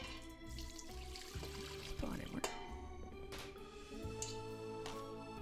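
Two cups of warm water pour from a tap or jug into a vessel for French bread dough, a steady splashing stream with gurgling shifts, heard close and alone.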